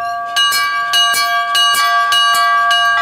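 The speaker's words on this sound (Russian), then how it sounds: "каждый желающий может позвонить в колокола" Church bells ring in a rapid, repeated series of loud clangs for Easter, with steady strikes roughly every half second and a sustained metallic hum between them, no voices present.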